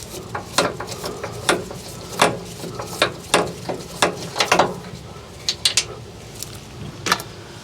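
Rear bump stop on a 2019 Toyota Sequoia being spun down by hand during a Timbren suspension install: a series of sharp metallic clicks and ratcheting ticks, close by and irregular, with no talking.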